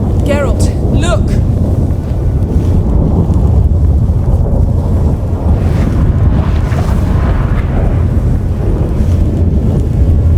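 A storm in The Witcher 3 video game, with loud rumbling thunder and constant blustery wind filling the scene, and brief tonal effects near the start.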